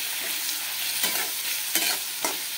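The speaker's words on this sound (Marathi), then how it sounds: "टोमॅटो आता हे परतून घ्यायचं आपल्याला, थोडंसं कच्चेपणा जाईपर्यंत" Tomatoes being sautéed for poha in a pan on the stove, a steady sizzle with a few louder scraping stirs of the spatula, near and continuous, with no voices.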